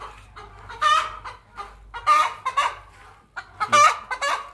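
Chickens cluck and squawk in bursts inside a nearly emptied poultry farm coop in Jhapa, several birds calling close by in uneven clusters with short quiet gaps between them.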